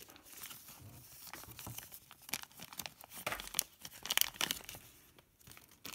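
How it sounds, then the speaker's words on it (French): Plastic packaging crinkled and torn open to unwrap a machined carbon fibre RC part, a close run of irregular crackling rustles and tears. "on va déballer le support qui forcément était déjà prêt"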